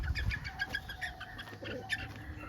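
Baby chicks just moved from a brooder onto the ground give rapid, high, repeated peeping chirps, close and fairly soft.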